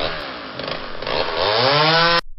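A chainsaw runs close and loud for a couple of seconds, its whining pitch climbing before it cuts off abruptly.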